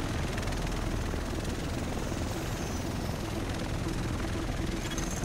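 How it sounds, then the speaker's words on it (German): A helicopter in the video game The Division whirs steadily and loudly throughout, a constant dense rotor drone with no speech over it. "Der Rest von uns sitzt in diesem Heli."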